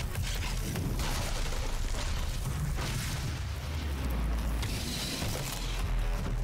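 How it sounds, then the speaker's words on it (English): Dense, continuous rumbling blasts and booms from Doom 2016 combat fill the whole stretch, loud and close with no pauses, no voices heard. "I should be using my grenades against the imps"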